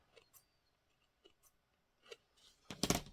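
Scissors trimming the edge of an altered playing card, a few soft isolated snips spaced apart, then a louder, sharper crisp cut near the end, close and otherwise quiet.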